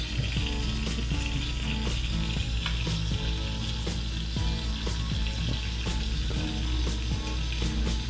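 Steak, onions and peppers sizzle steadily on a Blackstone griddle beside toasting bread, a continuous loud hiss broken by occasional scraping and spatula clicks.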